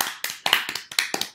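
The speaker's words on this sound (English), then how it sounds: "Everybody clap for Mimi." A small group claps at home in a short, uneven burst of about a dozen sharp hand claps, close and fairly loud, with no talking.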